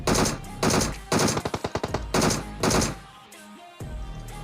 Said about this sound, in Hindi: मेरे ऊपर फायरिंग होनी शुरू हो गई